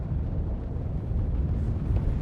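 A liquid fuel rocket in the game Stationeers roars with a deep, rumbling, fiery burn, loud and sustained like fireworks erupting, with no voices over it.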